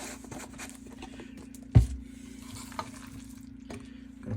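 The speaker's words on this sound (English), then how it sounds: "We're gonna mix it up." A spoon stirs garam masala powder through paneer and potatoes in a pan, with a soft continuous frying sizzle, a sharp scrape or knock near the middle and lighter clinks afterward.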